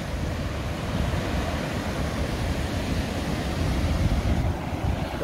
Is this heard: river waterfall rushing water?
yes